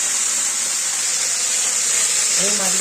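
Small puti fish frying in mustard oil, a steady loud hiss and sizzle filling the whole stretch, with a voice briefly starting to speak near the end.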